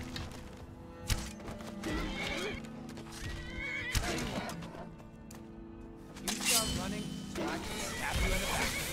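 Horse in Skyrim neighing and whinnying amid combat with bandits, with clip-clop hooves, thuds and crashes scattered through, while someone talks over the game sounds.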